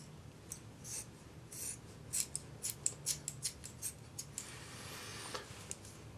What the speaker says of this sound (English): Take your scissors and trim this